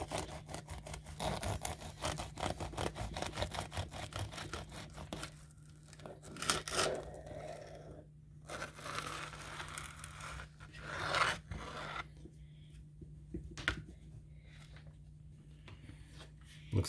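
A knife cuts down the middle of a crispy air-fried apple turnover from a Kalorik Maxx air fryer, giving close, continuous crunching and scraping sounds with a steady low hum underneath and brief pauses near the end.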